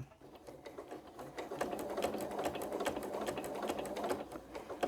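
Sewing machine back stitching through a quilted Santa cookie rug, a fast, even rattle of needle strokes running steadily and close for the whole stretch.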